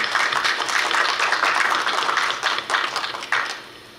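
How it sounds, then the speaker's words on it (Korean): Brief audience applause welcoming a new student at a Korea University KU-KIST graduate school entrance ceremony, dense clapping from a small crowd that holds steady before fading out in the last moments. "큰 박수로 환영해 주시기 바랍니다."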